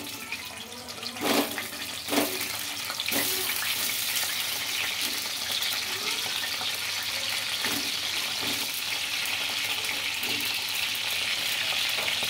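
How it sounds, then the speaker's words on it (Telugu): Eggplants drop into hot oil in a home kitchen: a couple of clattering thumps, then a loud, steady sizzle of frying that continues close up without pause. "ఆయిల్ అయితే హీట్ అయిందండి. ఇంకా వంకాయలు అయితే వేసుకుంటున్నాను."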